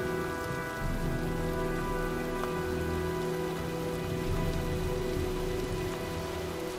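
Steady rain from the video game Heavy Rain patters on a surface, dense and continuous, with no voices, just an even wash of falling drops.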